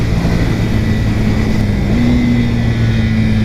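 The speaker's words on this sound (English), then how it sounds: "That's full power. Oh, I hit the rev limiter." A Honda motorcycle engine revs hard at full power up to its rev limiter, a loud, close, sustained drone whose pitch steps up slightly partway through.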